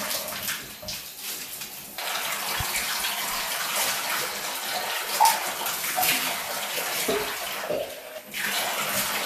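Water runs steadily from a tap to rinse a bathtub clean after scrubbing with baking soda and vinegar, a continuous broadband gush that dips briefly now and then.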